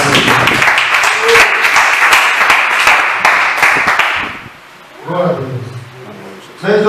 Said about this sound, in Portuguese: Receba o servo do Senhor bem com palmas verdadeiras.